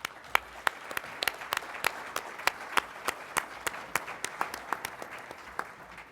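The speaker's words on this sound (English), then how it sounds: "So if everyone can just please join me in a round of applause for the panel." A small audience applauds a panel at a military leadership event, with sparse, distinct claps ringing out irregularly at moderate loudness.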